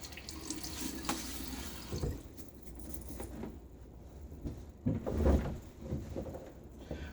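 Water running from a bathroom tap during a wet shave, a steady close splash with a few louder surges and clinks as hands move under the stream.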